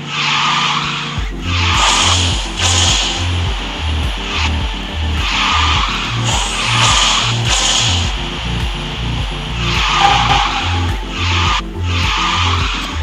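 The Tortoise car in the racing game Garena Speed Drifters skids through repeated drift turns. Loud, drawn-out tire squeals rise and fall over a pulsing engine note, with no talking.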